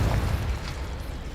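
Confringo spell explosion in a Hogwarts video game, a deep, booming blast that hits at once and then rolls off into a fading low rumble.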